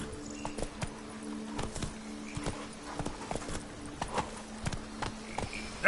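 Roach the horse from The Witcher 3 clip-clopping along at a steady walking pace, hoof strikes crisp and regular over a low ambient bed, with a brief louder burst at the very end.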